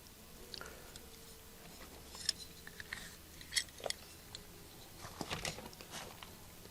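A drip irrigation pipe is snipped with a cutter in a garden, giving a few faint, sparse crunchy clicks and cuts over quiet background, with no talking.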